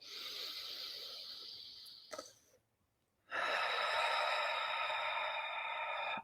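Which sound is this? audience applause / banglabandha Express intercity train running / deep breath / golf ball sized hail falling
deep breath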